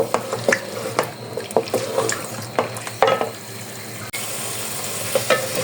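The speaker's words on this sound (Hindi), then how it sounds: "आलू को हम इस मसाले में अच्छी तरह फ्राई कर लेंगे।" Cut potatoes fry in a spice masala for aloo choliya sabzi, a steady close sizzle broken by repeated scraping strokes of a stirring spoon against the pan, with no talking.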